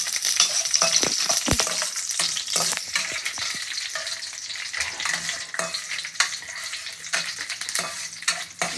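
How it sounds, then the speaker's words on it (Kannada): Raisins sizzle and crackle steadily in hot ghee, with a dense frying hiss and occasional scrapes of a spoon stirring them, close and continuous throughout. "ತುಪ್ಪಕ್ಕಾದ್ಮೇಲೆ ದ್ರಾಕ್ಷಿ ಹಾಕ್ತಾಯಿದ್ದೀನಿ ನೋಡಿ"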